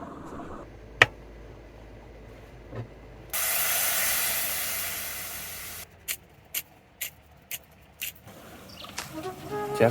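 Compact Iwatani cassette gas junior burner at a campsite on Lake Shikotsu, Hokkaido: a loud steady gas hiss for a few seconds, framed by sharp clicks and rattles of handling, no talking.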